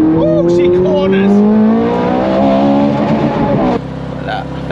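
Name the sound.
sports car exhaust revving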